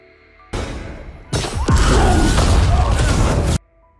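In a film, a homemade explosive device goes off: a muffled thump, then a loud roaring blast with crashing debris that sustains for about two seconds before cutting out abruptly.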